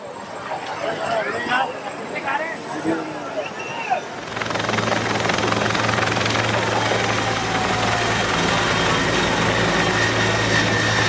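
A helicopter roars overhead at a political rally in Mahagama, a loud continuous rotor thrum and engine whine that swells in abruptly and stays dominant, with crowd chatter and voices beneath.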